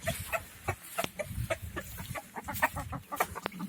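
Chickens cluck in quick, soft, scattered bursts close by as they come out of the coop, with a busy low rustle underneath.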